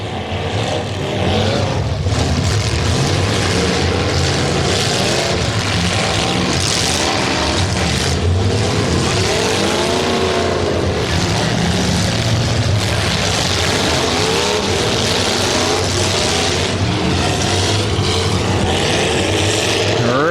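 Engines roar continuously as the last few cars battle on at a Bash for Cash demolition derby, a loud, dense mix of revving motors and crowd noise without clear crashes, heard from the stands.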